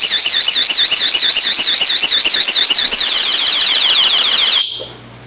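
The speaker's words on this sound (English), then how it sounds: "I think that alarm will come on again." A house alarm shrills loudly in a home near the pool area, a rapid warbling electronic tone that speeds up before cutting off abruptly near the end, leaving a low hum.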